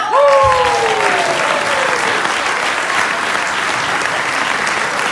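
Audience at a church gathering breaks into a loud, sustained round of clapping that carries steadily from start to finish, with a brief voice heard at the very beginning.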